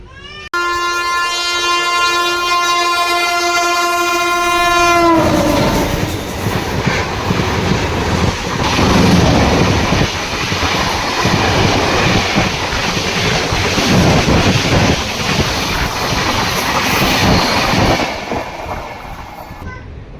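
Train horn sounds a long steady blast at a railway station, then a loud train rolls past with continuous rumbling and clattering wheels for about fifteen seconds before fading.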